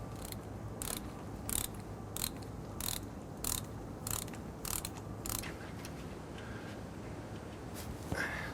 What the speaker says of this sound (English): First, we're going to remove the 4 bolts that attach the Y to the pump.